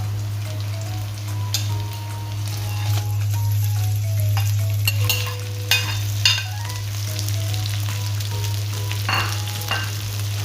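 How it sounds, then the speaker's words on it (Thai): Sai ua sausage stir-fried with holy basil in a hot pan makes a constant loud sizzle. Spatula scrapes and clicks recur irregularly on top of it, and a steady low hum runs underneath. "ผัดพอสุกนะครับ ไม่ต้องให้ให้จนเกรียมนะ เราก็ใส่ตัว ไส้อั่วของเราลงไปเลยนะครับ"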